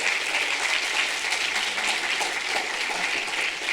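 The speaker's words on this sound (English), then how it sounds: "please give a huge round of applause to Mrs. Keller" Audience applause fills the hall at a senior awards night, a dense, steady clapping that holds evenly throughout with no speech over it.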